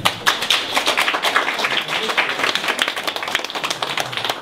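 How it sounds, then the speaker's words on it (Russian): Audience applause before a concert at a small venue, a dense crowd of hands clapping steadily throughout, close and fairly loud with no talk. "Держи аплодисменты."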